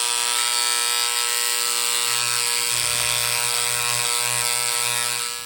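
A fine-tip pneumatic scribe chips rock away from a fossil during prep work, giving off a steady, loud, high-pitched buzzing rattle that runs unbroken and close-up, with a slight shift in tone as the tip meets the stone.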